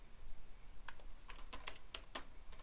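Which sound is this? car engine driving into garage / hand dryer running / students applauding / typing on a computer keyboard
typing on a computer keyboard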